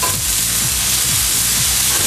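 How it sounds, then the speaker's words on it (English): Butter sizzles and fries loudly in a hot pan alongside bacon that has already browned, a steady dense crackle with pulsing stirring scrapes throughout. "now you put a good piece of butter in it"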